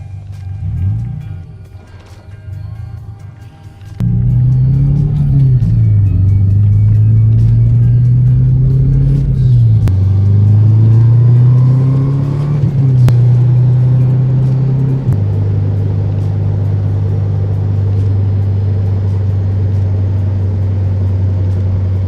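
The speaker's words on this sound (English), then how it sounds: "For now, I'm gonna go for a little test drive." A turbocharged Subaru Legacy on a test drive gives a steady, loud engine drone and road rumble from inside the cabin, rising and falling with gear changes and acceleration, with no talking.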